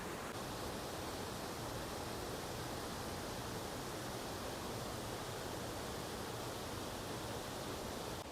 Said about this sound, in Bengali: এটা হচ্ছে মা অম্বিকা দেবীর মন্দির আর তার পাশ দিয়ে ঝর্ণা